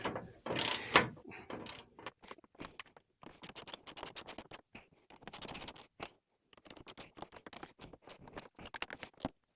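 A spanner tightening parts on a 1958 Pontiac, with rapid ratcheting clicks in short uneven runs separated by brief pauses, close and fairly crisp, with a louder rasping burst at the start.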